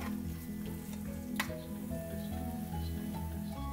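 Tomatoes frying in a pan for mushroom biryani, stirred and mashed into a paste: a steady close sizzle with soft scraping and squishing from the spoon, and one sharp tick midway.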